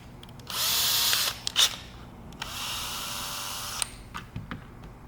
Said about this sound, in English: I'm gonna drill that out